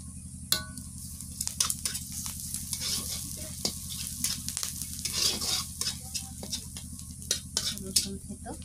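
Onions frying in a pan make a continuous close sizzle, with scattered scraping and stirring clinks of a utensil against the pan and faint background voices.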